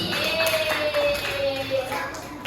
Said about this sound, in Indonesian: Tepuk tangan untuk Silvi.